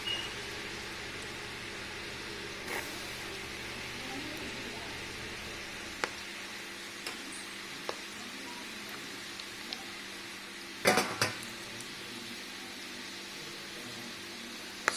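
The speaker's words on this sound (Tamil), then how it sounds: "இப்போ எண்ணெய் பார்த்திங்கன்னா நல்லா காஞ்சிடுச்சு. இதில் நம்ம நிலக்கடலையும் போட போகிறோம்." Raw groundnuts frying in hot oil on a stove, a steady soft hiss and fizz running throughout with faint scattered crackles and a couple of louder clatters near the end.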